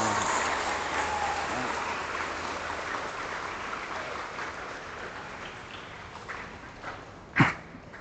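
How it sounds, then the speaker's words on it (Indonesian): Broad, steady applause from a crowd at a school ceremony for an anti-drug and public-order declaration at an Islamic senior high school. The clapping stays even throughout and ends with one sharper, louder clap near the close. "Tepuk tangan buat semuanya."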